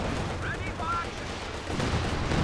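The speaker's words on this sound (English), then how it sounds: "First barrage coming in." An artillery barrage in Company of Heroes 2 lands as a 2v2 match plays out, with rumbling, overlapping blasts and crackling impacts amid steady battlefield noise.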